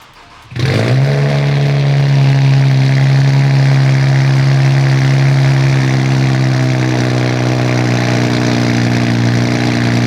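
An Infiniti Q60S with the twin-turbo VR30DDTT V6 cranks and fires up abruptly, then settles into a loud, steady, even idle that holds for several seconds.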